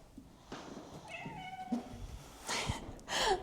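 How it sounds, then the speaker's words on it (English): A house cat meows several times indoors, short tonal cries at irregular intervals, fairly close and clear over a quiet room. "My cat is driving me crazy."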